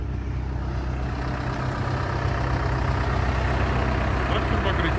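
A Komatsu WB93R backhoe loader's engine idles close by, a loud steady low rumble that holds even throughout.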